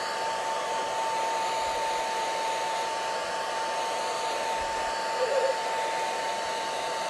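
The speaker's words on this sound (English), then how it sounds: "And I'm going to hit it with a hairdryer." A hair dryer blowing steadily throughout to dry ink on a drawing, a constant close whooshing hum with a faint tonal whine and no break in the airflow.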